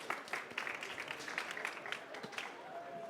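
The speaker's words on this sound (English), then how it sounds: "Yes, round of applause." A conference audience applauding after speakers are introduced, a short burst of scattered clapping that sounds fairly distant and faint.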